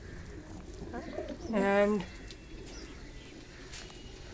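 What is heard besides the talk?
fantail pigeons cooing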